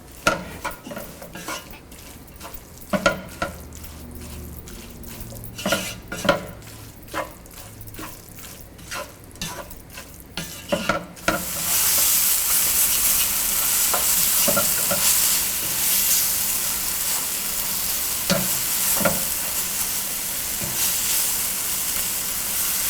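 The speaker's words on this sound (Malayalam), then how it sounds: "ഇതിലോട്ടിനി നമ്മൾ കട്ട് ചെയ്ത് വെച്ചിരിക്കുന്ന ടൊമാറ്റോ ഇട്ട് വഴറ്റുക. മീഡിയം ഫ്ലെയിമിൽ വെച്ച് 3 മിനിറ്റോളം വഴറ്റണം." Chopped tomatoes go into a hot pan for a Kerala-style chicken roast and are sautéed over a medium flame. Spoon scrapes and clinks come first, then a loud, steady sizzle of frying that runs close and continuous.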